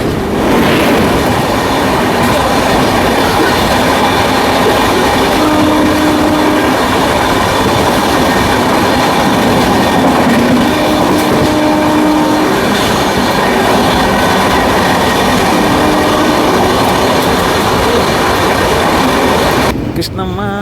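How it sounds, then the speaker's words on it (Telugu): A goods train rolls past on a railway line near the Krishna river, its loud, close rumble and rhythmic wheel clatter running continuously with faint squeals, before cutting off abruptly at the end. "గూడ్స్ బండి వచ్చేసింది."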